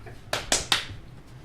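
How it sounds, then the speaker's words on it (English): Three sharp hand claps ring out in quick succession to interrupt a puppy chewing on a shoe. The claps are crisp and close in a quiet room. "He didn't stop right away, so I started clapping my hands."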